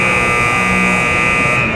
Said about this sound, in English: There is a buzzer, hopefully saying that we are about to start the match.